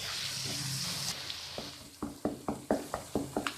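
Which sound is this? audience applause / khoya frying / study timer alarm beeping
khoya frying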